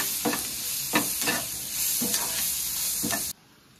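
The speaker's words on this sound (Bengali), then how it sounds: "এবারে ভালো করে পেঁয়াজ আর বেগুনের সাথে নুন হলুদ ভেজে নেব।" Onion and eggplant frying with salt and turmeric in a pan, a steady sizzle broken by four regular scraping stirs, close and alone, then cutting off abruptly near the end.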